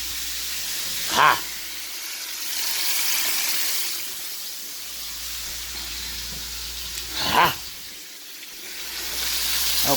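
Turkey pieces sizzle in a skillet for a turkey and rice soup, a steady frying hiss with a couple of brief louder bursts, heard alone.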